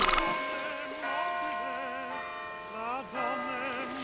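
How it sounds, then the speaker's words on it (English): A deep clock tower bell in a seacoast town tolls with long ringing overtones that linger and swell, a second strike arriving near the end. "A clock striking and waves lapping."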